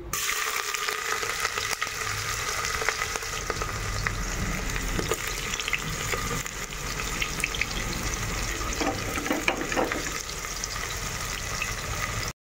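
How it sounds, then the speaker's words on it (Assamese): Onions fry in oil in a pan with a steady, loud, continuous sizzle heard close up, broken by a few faint stirring sounds and no talk. "পিঁয়াজখিনি ৰঙাকৈ ভাজি ল'লোঁ"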